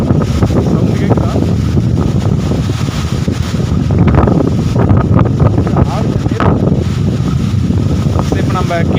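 Strong mountain wind on the Jarugumalai hills near Salem, India, roars and buffets against the microphone in continuous gusts, loud and close, with muffled talk underneath.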